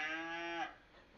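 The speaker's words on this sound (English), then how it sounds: "The cow goes, moo." A single cow moos once, a loud close harmonic call lasting about half a second before fading into quiet.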